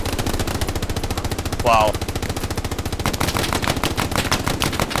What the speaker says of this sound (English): That is some impressive covering fire.